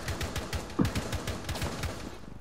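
Rapid bursts of video game gunfire crackle in a dense, continuous volley, one louder shot standing out midway, with no voices over it.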